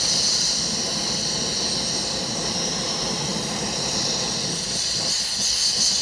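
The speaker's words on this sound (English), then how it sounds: "Now we're at a pretty good rolling boil." Water at a rolling boil in a pot on an MSR Rapidfire stove, a steady loud hissing roar with bubbling churn running continuously throughout, no voices.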